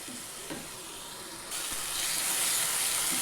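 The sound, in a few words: tomato masala frying in oil until the oil separates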